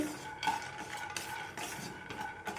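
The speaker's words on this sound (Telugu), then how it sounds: "చూడండి, ఈ విధంగా అయితే వేయించుకోవాలండి పల్లీలను అయితే" Peanuts dry-roasting in a pan for peanut and ridge gourd chutney, soft rattling and scraping as a utensil stirs them, quiet and close, with no speech.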